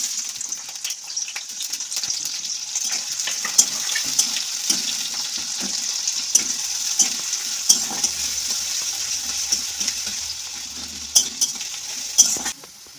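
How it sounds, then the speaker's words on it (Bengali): Onions fry in hot oil with a steady, loud, bright sizzle throughout, broken by occasional stirring scrapes and clacks close by. "পেঁয়াজটা ভেজে নেবো, কিছু আর ফোড়ন দেবো না, শুধু পেঁয়াজটাই দিয়ে দেবো।"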